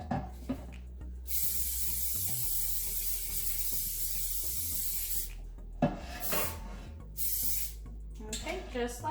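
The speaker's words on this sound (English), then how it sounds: "So just go ahead and spray all of that." A sustained aerosol spray of olive oil into a cake pan hisses steadily for several seconds, then a few shorter bursts follow amid light handling noises.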